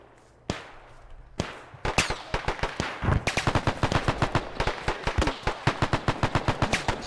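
Rapid machine gun bursts in Arma 3, a few separate loud shots followed by a long run of sharp, evenly spaced cracks, close and dominant with no talking.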